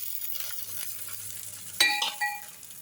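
Batter fries in oil in a holed pan, giving a quiet crackling sizzle, then a sudden sharp metallic clink followed by a brief ringing tone near the end.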